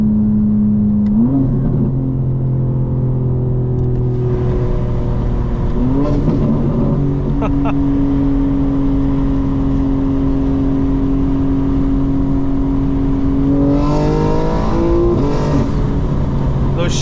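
A 2025 BMW M4 Competition xDrive with its ZF 8-speed automatic, engine droning loud and close from the cabin, pitch climbing then dropping sharply at several quick upshifts, with a hard rev surge near the end.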